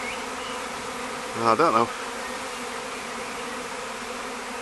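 Bees from a busy hive swarming near a top entrance, a brief loud close buzzing burst of several wingbeat tones over faint steady background hum, with a short spoken remark.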